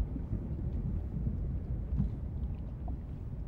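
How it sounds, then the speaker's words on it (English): Thundersnow storm in the video game Subnautica: Below Zero, a low, steady rumbling roar of thunder and wind that swells slightly near the middle, with no voices. "Oh, it is. Thunderstorm! Thundersnow."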